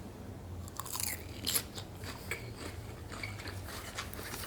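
Crunchy chewing of a vegan salad with carrot and pasta-like noodles, close and fairly quiet, with a few sharper bites standing out over steady mouth sounds and no talking.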